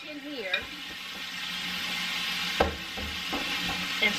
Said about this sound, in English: And stir it around some